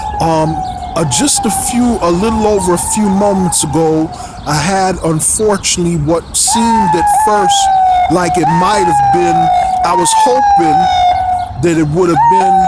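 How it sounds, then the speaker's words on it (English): Ambulance sirens wail outside, rising and falling in repeated sweeps that carry on beneath someone speaking steadily throughout. "We've got ambulances coming through as I'm shooting live."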